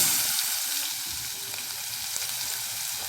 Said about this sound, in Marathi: कांदा टाकला आता आपण हे व्यवस्थित परतून घेऊया व्यवस्थित तेलामध्ये छान परतून घेऊया